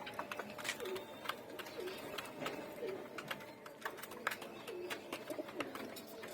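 Pigeons coo repeatedly in a home loft where hatchlings are being raised, soft low rolling calls recurring every second or so among faint clicks and chirps of other birds.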